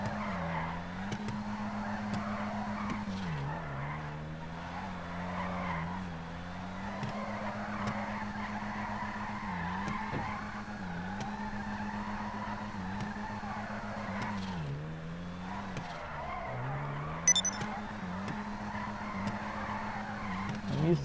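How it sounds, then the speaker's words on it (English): A car drifts in GTA Online with long, wavering tire squeals rising and dipping over a steady engine drone, sustained throughout, with a brief sharper clatter near the end. "I'm used to drifting the Warner with the stancing, but I can do it without it, as you can see here."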